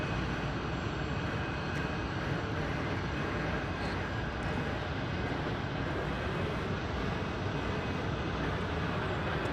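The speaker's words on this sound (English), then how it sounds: "auxiliary power unit. That's the jet noise you hear." A constant, even jet drone from an aircraft auxiliary power unit at DFW Airport, with a faint high whine, running without pause and no voices.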